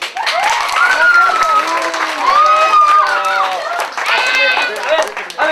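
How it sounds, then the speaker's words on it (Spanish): A children's crowd at a clown show claps loudly and continuously, with excited shouts and whoops rising over the applause. "a ver, fuerte ese aplauso"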